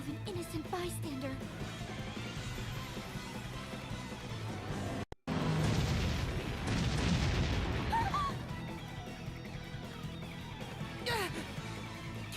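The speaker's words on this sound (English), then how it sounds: "cannon fire? This is madness!" Booming cannon blasts in the Bravely Default video game, with a sharp gap and then a loud burst of thudding impacts mixed under game music and character voices.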